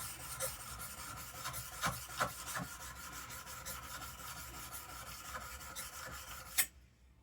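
Steel blade of a block plane rubbed back and forth on a Norton IM83 sharpening stone, a steady close rasping scrape with repeated stroke accents, ending abruptly in near silence.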